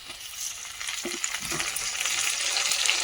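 Chopped tomatoes hit onions already frying in a pan, and the steady hiss of sizzling oil continues close up with no talk.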